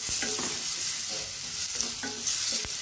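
Mushroom and prawn curry being stirred and fried in a pan, with steady sizzling and bubbling broken by repeated scraping strokes of a utensil, close and fairly loud, with no talking.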